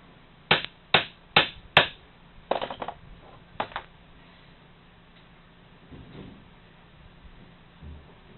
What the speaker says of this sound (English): I'm going to see if I can tap it just a little with this socket to drive it down